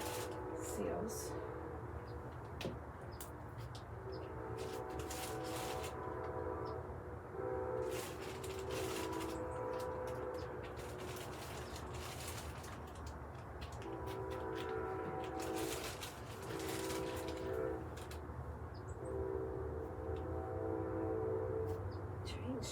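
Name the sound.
passing train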